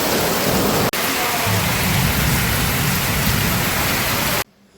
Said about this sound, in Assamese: এই গাইজ বৰষুণ চাওক কি বৰষুণ দিছে একেবাৰে।